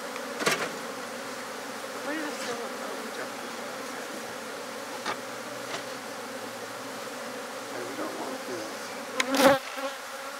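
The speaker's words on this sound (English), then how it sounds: "Okay, we don't want these bees on here" Bees buzz steadily around a top bar hive, a continuous close insect drone with a few sharper bursts as individuals fly near, including a louder swell near the end.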